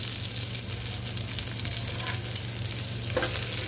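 Mint leaves sauté in a pan for egg biryani, a loud, steady close-up sizzle and frying crackle with light stirring throughout and no voices.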